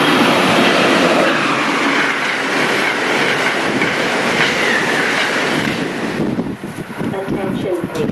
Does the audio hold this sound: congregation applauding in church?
no